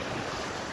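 Steady wind rushes and buffets the microphone on the shore of Lake Constance at Kressbronn, with a low rumble of water underneath, loud and continuous throughout.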